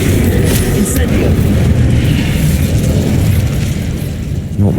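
Incendio fire spell blasting in Hogwarts Legacy, a loud continuous roaring burst of flame and impacts layered with combat noise.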